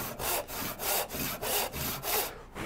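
A heavy hand saw with 8 teeth per inch cuts a wooden tenon in brisk, regular strokes, about seven rasping pushes in quick rhythm, close and clear with no voices.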